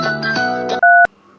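A short, sharp electronic phone tone rings out once, right after a burst of tuneful background sound.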